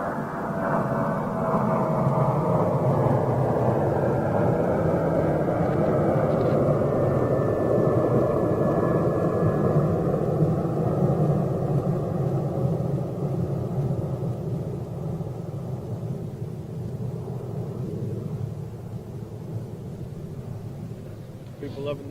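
A Boeing 737-800 jet departs on a long, flat climb, its broad engine roar loud and rumbling, slowly shifting in pitch and fading gradually as it moves away.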